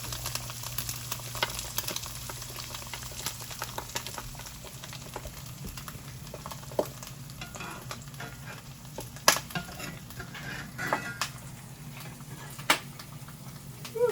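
An egg frying in a skillet gives a continuous close sizzle with small pops and crackles throughout, with no talking.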